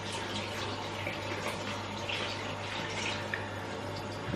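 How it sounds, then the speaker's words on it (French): Tap water runs steadily into a sink while both sides of a facial cleansing brush are rinsed, a soft continuous splashing heard fairly quietly and close by, with small drips and no talking. "Là je vais rincer les deux côtés de ma brosse."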